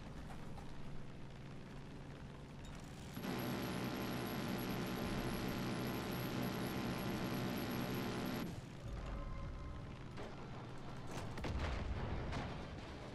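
Sustained automatic gunfire in the Far Cry 5 video game roars as a dense, continuous burst for several seconds. Scattered shots, mechanical clicks and a heavier thud follow afterward.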